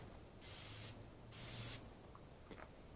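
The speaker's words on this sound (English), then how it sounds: "Let's give it a little spray" Two short bursts of aerosol spray hiss close by, separated by a brief pause, followed by faint light tapping.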